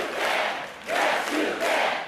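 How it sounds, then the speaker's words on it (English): A political rally crowd in North Carolina chants "Yes, you can" in loud, rhythmic bursts, three swelling waves of many voices with short dips between them. "Yes, you can, they chanted."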